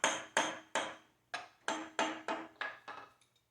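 Sharp, evenly spaced taps from a dead blow hammer knocking machine parts snug on a Lucas model 41 horizontal boring mill, about eight close strikes each dying away quickly.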